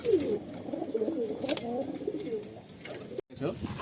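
Pigeons in a breeding loft, including a star kalanka bird, coo in a low, throaty, warbling murmur, near and steady, with someone talking over it.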